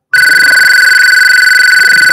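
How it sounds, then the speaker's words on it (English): A telephone rings during a Wednesday night church service, its loud, steady electronic trill sounding continuously and up close from the start, with no talk over it. "I get that phone."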